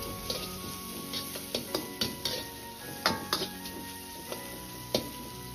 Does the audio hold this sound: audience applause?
no